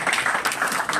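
A conference audience at an arts centre breaks into a short burst of steady, crowded clapping for the event's patrons.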